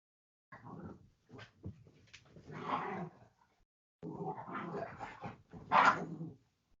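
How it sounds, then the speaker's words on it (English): Pet dogs play-fighting nearby, with bursts of growling, snarling and short barks in scattered clusters separated by brief silent pauses. "my dogs are trying to have a battle themselves"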